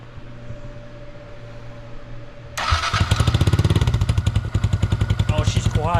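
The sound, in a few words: 2022 Honda Grom motorcycle starting with aftermarket exhaust, baffle in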